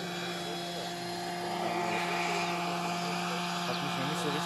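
A Schlüter DS-22 model helicopter flies at an antique model helicopter meet in Kitzingen, giving a steady, loud rotor and engine whine with tonal hum throughout. Background voices can be heard faintly.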